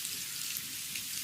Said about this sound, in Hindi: इस बारिश में हमारे घर डूब गए हैं